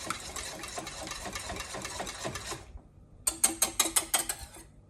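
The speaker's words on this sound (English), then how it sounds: "I'm just going to whisk this until smooth" Eggs whisked for a quiche in a large bowl, rapid rhythmic clinking and scraping strokes that stop briefly, then resume in a quicker burst of sharp taps, close and moderately loud.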